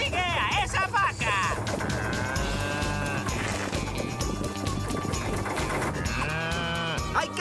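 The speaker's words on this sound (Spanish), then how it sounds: "¡Sigue a esa vaca!" Cartoon cow mooing in an animated adventure, loud drawn-out lowing calls mixed with lively music and voices talking over the action.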